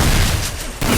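Burst of gunfire in a video game, dense and loud, cutting out abruptly near the end before resuming briefly.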